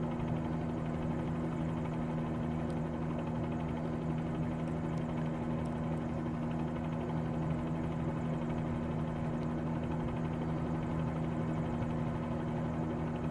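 A Bell 47G helicopter flying in a flight simulator game, with an even, unbroken engine and rotor drone and steady low tonal hum throughout, holding at a constant level.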